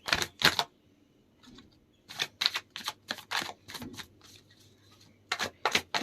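Tarot cards are shuffled in quick crisp bursts of riffling and snapping, close and clear, separated by short pauses.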